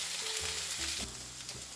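Zucchini sizzles steadily in a pan on the stovetop after being flipped, a soft, even frying hiss with faint low hum underneath, no voices.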